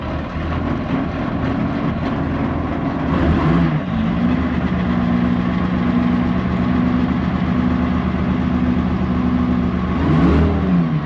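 An FV433 Abbott self-propelled gun's engine runs on its first start-up, holding a loud, steady idle that swells into brief revs near the start and again toward the end, with no voices.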